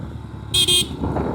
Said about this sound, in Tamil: horn is also descent